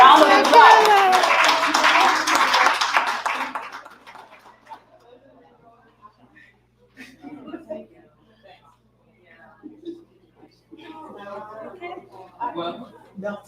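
An audience at a business pitching event applauds loudly for several seconds before the clapping fades out, followed by quiet stretches and bits of talk.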